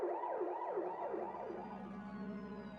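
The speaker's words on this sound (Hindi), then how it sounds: "उस वक्त पैब्लो की लाश एम्बुलेंस में रखकर पोस्टमार्टम के लिए शहर के सरकारी हॉस्पिटल में भिजवाई जा रही थी।" An ambulance siren wails in a rising and falling pattern, several quick cycles that settle into a steadier tone, clear and prominent with an engine hum beneath and no talk.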